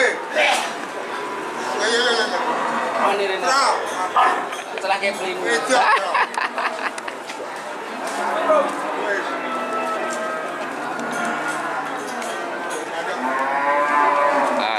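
Cattle at a livestock market in Siyono, thin cows sold for fattening and slaughter, mooing repeatedly amid a busy crowd, with occasional dog barks and people talking throughout.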